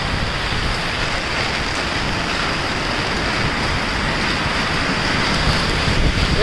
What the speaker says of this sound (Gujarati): એટલો વરસાદ આવ્યો તો પાણી આવી ગયું